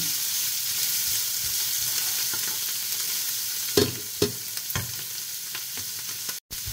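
Caramelized onions and mushrooms sauté in a pan, a steady close sizzle and frying hiss broken by a few sharp scrapes and clinks of stirring.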